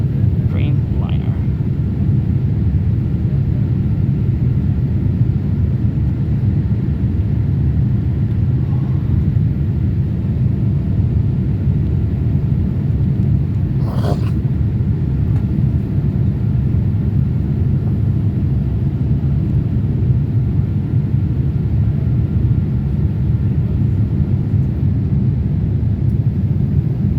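Inside the cabin of an Air India Boeing 787 Dreamliner taking off from Lucknow, a loud, steady low engine roar and rumble continues throughout, with a brief higher swish partway through.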